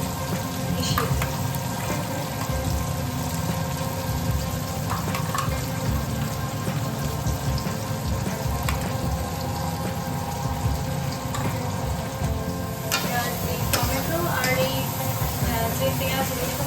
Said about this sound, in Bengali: যে পেঁয়াজ রসুন বাদামের যে পেস্টটা ছিল এটা কিছুক্ষণ নাড়তে হবে মাঝে মাঝে